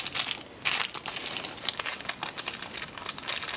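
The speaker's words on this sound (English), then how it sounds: "I know some of y'all can't stand the crinkling noise." Plastic packaging crinkles and crackles continuously as a stamp haul of metal dies and clear stamps is unboxed, with close, busy bursts of rustling and tearing-like crunches throughout, no speech.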